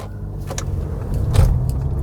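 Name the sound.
inside a car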